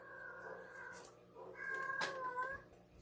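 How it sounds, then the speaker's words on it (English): House cats meow loudly indoors: a long call, then a brief rustle, then a louder wavering meow, all close by and quiet in the background, with no talking. "Stop meowing so loud."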